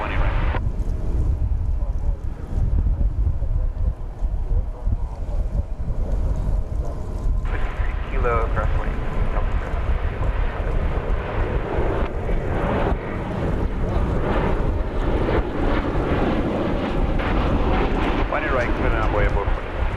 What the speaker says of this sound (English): American Airlines Flight 2521 is coming in from Calgary in Canada. It's a 737-800.